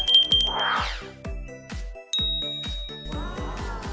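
A school bell for the first day of the school year rings out in bright, ringing chimes over a steady rhythmic musical backing, clear and fairly loud.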